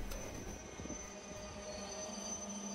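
An HO scale model ore train rolls along a layout with a continuous metallic rumble and faint wheel squeal, steady and close throughout with no talking.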